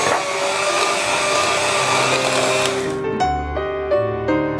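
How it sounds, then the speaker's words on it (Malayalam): An electric beater whirs steadily as it mixes eggs into orange cake batter, the motor noise loud and continuous before cutting off abruptly, with musical tones following. "ഇനി ഇതിലേക്ക് മുട്ട, 4 മുട്ടയാണ് അളവ്, അതിൽ ഓരോന്നോരോന്നായിട്ട് ചേർത്ത് വീണ്ടും ബീറ്റ് ചെയ്യും"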